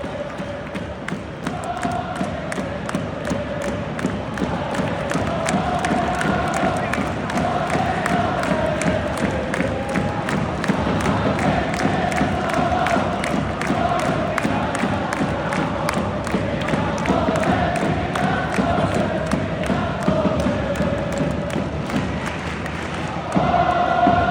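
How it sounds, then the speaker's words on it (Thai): Football supporters cheer at a J-League match in Kobe, a dense, steady crowd roar with rhythmic chanting and regular drum-like beats running continuously throughout. "มาดูบรรยากาศการเชียร์ของเขาครับ โอ้โห มันจริง ๆนะครับ เต็มที่จริง ๆ"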